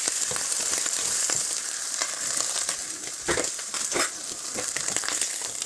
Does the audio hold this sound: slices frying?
yes